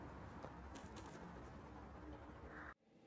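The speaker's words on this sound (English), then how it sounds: "Your bird of the week is an American woodcock." An American woodcock calls, with bird notes over a constant noisy, hissing background that cuts off sharply near the end.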